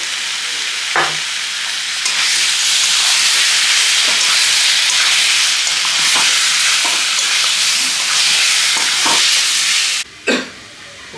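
Tomato puree hitting a hot frying pan for a Mughlai paratha and potato dish, a loud, continuous sizzle and hiss with occasional stirring scrapes, briefly cutting off near the end before resuming.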